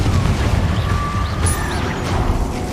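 Confringo spell explosion in the Hogwarts Legacy video game, a dense rumbling boom with crackling bursts and debris-like clatter, loud and continuous with no talk over it.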